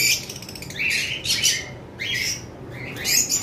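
Lovebirds kept as caged pairs give repeated sharp, shrill squawks and chirps in quick bursts. The calls come close and loud, with short quiet gaps between them and no talking.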